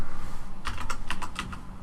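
Rapid typing on a computer keyboard, a quick run of close, crisp key clicks in uneven bursts, heard alone.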